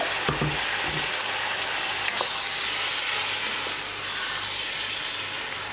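Beef sizzles loudly and continuously in a hot pan for Kerala beef biryani, with a steady frying hiss and a few stirring clinks near the start, no talking.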